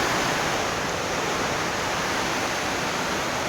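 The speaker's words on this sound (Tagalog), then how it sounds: "nakakatakot ngayon naman yung lakas ng ulan sa labas." Heavy typhoon rain and wind roar outside a house, a loud, constant broadband rush with no breaks, filling the whole stretch without voices.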